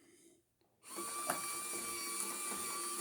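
A 12V motorized Doepke model toy Barber Greene overhead sand loader starts up after a brief quiet and runs with a steady, close electric motor whine and mechanical hum.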